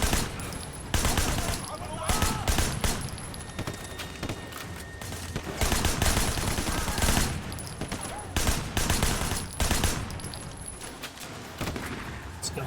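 Gunfire in the video game Sleeping Dogs rattles in repeated loud bursts and fusillades close by, interrupted by short pauses, with a voice talking over parts of the shooting.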